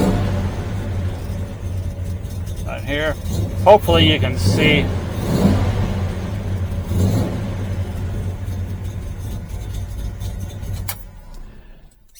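A 1969 Chevelle SS 396 V8 idles with a deep, steady rumble and a few revs, while someone speaks briefly over it.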